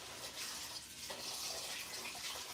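Tap water runs steadily into a pot of rice being rinsed, a continuous close hiss and splash with no talking.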